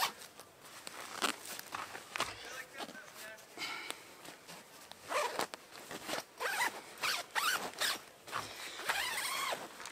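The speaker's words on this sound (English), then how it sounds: "you just zip it back in place." A zipper runs in quick, scratchy pulls as a Sylvansport Cloud Layer mattress blanket is zipped back into place. The pulls are close and repeated over soft handling noise.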